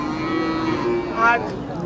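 A four-month-old calf at a cattle market lets out a single drawn-out moo, close and loud, with no talk over it.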